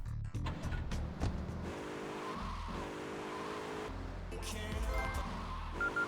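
Grand Theft Auto III car driving: a steady engine drone rising and falling with gear changes, brief tire squeals, and light talk mixed in.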